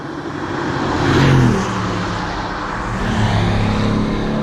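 A 2020 Mercedes-AMG GLC63S Coupe engine revs up and settles into a steady, throaty hum, swelling loudly once before holding a rumbling idle.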